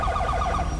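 Ambulance siren in the video game GTA 5, a steady wailing sweep cycling several times in quick succession, loud and continuous over low rumbling game ambience.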